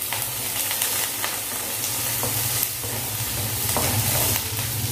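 Chopped onion and curry leaves sautéing in coconut oil, a continuous dense sizzle with stirring and scraping strokes across the pan, close and steady without any voices.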